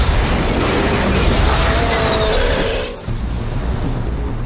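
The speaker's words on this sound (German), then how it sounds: "Alles muss explodieren." A loud, roaring film explosion blast fills the air with rumbling debris, cuts briefly, then a heavy boom continues rolling at high volume.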